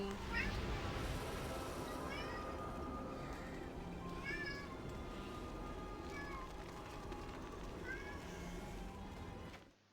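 A pet cat meows repeatedly, about half a dozen rising and falling cries spread over several seconds, fairly close, over a soft background of game ambience.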